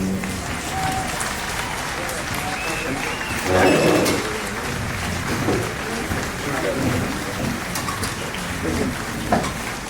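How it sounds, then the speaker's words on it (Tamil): Audience applause at an awards and cultural event in Erode, a broad steady clatter of clapping from a crowd that swells briefly in the middle, with voices murmuring underneath. "எல்லாருமே ஒரு பலத்த பாராட்டு ஒன்று கொடுக்கலாம் அவங்களுக்கு"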